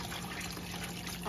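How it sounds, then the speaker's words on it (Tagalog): Water pours into a cooking pot for vegetarian noodle soup, a soft, steady trickling splash heard briefly and close by. "Lagyan na natin ng tubig para may sabaw."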